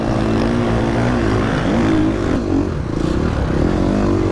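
KTM enduro motorcycles roar past on a beach enduro course, a loud, dense engine drone with rising and falling revs from several bikes close by, with no talk.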